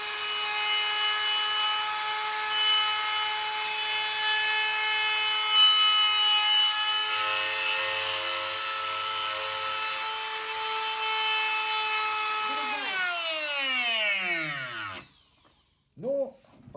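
A drill bores into hardened steel with a steady, piercing, high-pitched whine held for many seconds, then the motor spins down in a falling glide and stops, followed by a few brief clicks.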